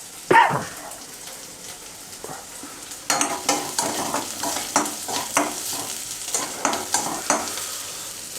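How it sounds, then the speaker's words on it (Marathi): Garlic and chillies fry crisp over a high flame for poha chivda: one sharp clatter, then a quieter stretch, before a loud close sizzle with repeated scraping stirs and crackles running to the end. "लसूण मिरची वगैरे क्रिस्पीच भाजून घ्या, जास्त मऊ ठेवू नका."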